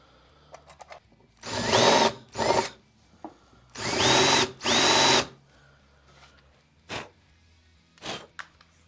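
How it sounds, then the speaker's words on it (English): A power drill countersinks screw holes in a guitar body, whirring in several short bursts: two close together, then a longer pair, followed by brief quieter spins, with soft handling clicks between. "I should probably start by countersinking those holes."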